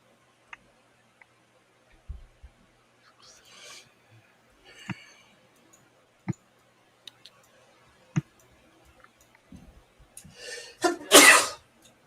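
A single sharp sneeze bursts out near the end, close and loud, after a stretch of scattered clicks and ticks in a quiet room during a live futures trading session.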